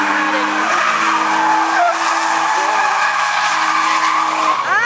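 Drift car at a competition skidding through a clipping point, with loud sustained tyre squeal over a high-revving engine, pitch shifts as the car slides and a fresh squeal at the end.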